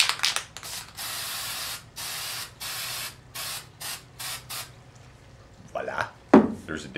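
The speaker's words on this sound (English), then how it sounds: "Once you've got them like this, spray paint them black." An aerosol can sprays black paint onto handmade miniature conifer trees in a series of short hisses of about a second each with brief pauses between, close and clear, followed by a few faint handling clatters.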